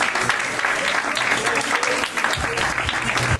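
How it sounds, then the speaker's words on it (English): A crowd applauds at a poker final table, dense continuous clapping throughout with voices mixed in underneath. "Got a round of applause for Greg."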